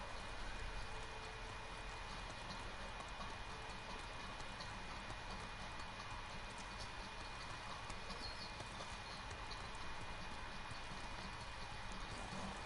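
Horse hooves clip-clop steadily while riding in the samurai action game Ghost of Tsushima, a continuous even rhythm under a dense bed of ambient game sound and music, with no voices.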